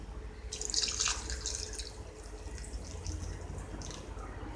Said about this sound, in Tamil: அதுக்கு எவ்வளோ தண்ணி வேணுமோ அதையும் நான் ஊற்றிடுறேன்